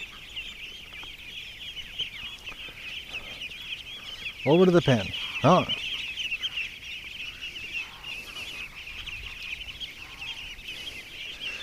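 Ducks being herded into a pen outdoors give a short burst of loud, nasal quacks partway through, over a constant high insect-like drone, with a person briefly speaking nearby.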